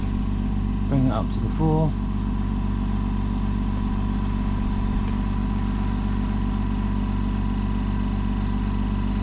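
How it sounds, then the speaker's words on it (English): Nearly silent air compressor running in a workshop, a low steady hum close by, with a brief burst of talk early on. "silent compressor. Well, nearly silent. That is not a bad noise."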